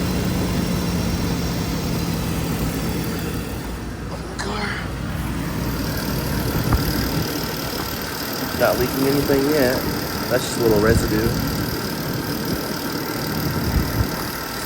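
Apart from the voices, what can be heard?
BMW E39 530i engine idling, possible Vanos noise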